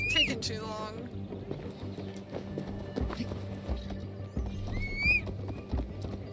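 Horse summoned in the video game Assassin's Creed Valhalla: steady clip-clop hooves approaching with two bright neighs, one at the start and one near the end, over a low game ambience.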